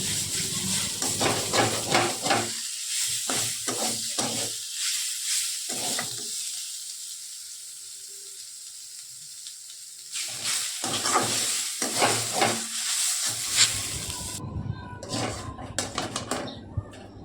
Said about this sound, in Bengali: এবার আমি ওর মধ্যে চিনি দিয়ে দিলাম, দিয়ে আমি ভালো করে ভেজে নিচ্ছি